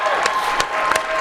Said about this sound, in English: can I get a round of applause for Manager Jeff?